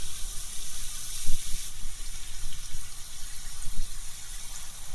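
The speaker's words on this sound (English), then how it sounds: "And then you would fill the hole full of water." Water pours steadily into a dug planting hole in a backyard landscaping job, a continuous close hiss and splash that holds for the whole span with small surges, no voices.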